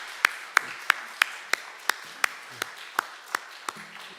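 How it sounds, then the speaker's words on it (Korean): A church congregation claps in encouragement for its teachers, producing sharp, evenly spaced claps in a steady unison rhythm of about three per second with quiet gaps between them. "우리 박수를 한번 크게 격려했으면 참 좋겠습니다."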